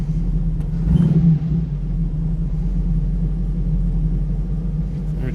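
A 1937 Buick street rod with a BluePrint 350 crate engine idling: a deep, steady low rumble nearby, with a brief swell early on, then an even idle, no talking.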